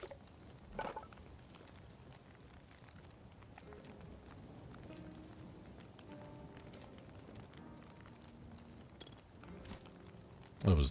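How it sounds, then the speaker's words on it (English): Rain falls in the survival game Hytale as a quiet, even patter across the scene, broken by a few soft thumps and a sharper knock at the end, with no talking. "It's raining."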